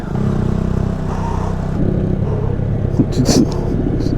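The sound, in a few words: Honda Grom motorcycle being bump-started by a tow vehicle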